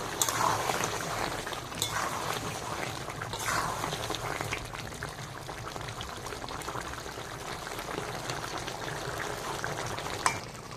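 Chicken simmers under a lid in a covered pot, giving a steady, close bubbling and hissing boil with a few brief clinks throughout.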